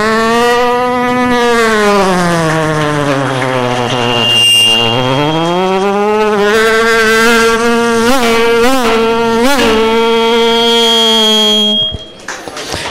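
A voice imitates a motorbike race at a district-level poetry gathering, a long sustained nasal buzzing drone that swoops in pitch, with rising and falling revs and quick stutters before cutting off near the end.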